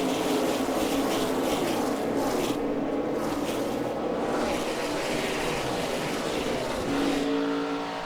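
NASCAR stock cars in a racing video game roar loudly and continuously as the field takes the green flag at Texas, engines droning and layering together with no talk over them.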